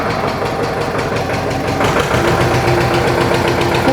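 An Agrale tractor engine runs after starting, a loud, steady, close idle with rhythmic knocking pulses throughout and no talking.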